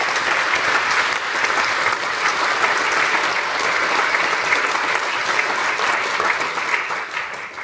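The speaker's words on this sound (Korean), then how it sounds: "우리 뜨거운 박수를 부탁드립니다" Loud, dense applause from a large crowd at a military church anniversary thanksgiving service, sustained without a break and easing off slightly toward the end.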